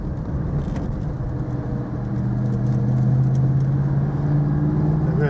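A 1972 Triumph Stag with a 3.0 V8 drives along with a steady, low engine drone and road rumble, loud and close throughout with no talking.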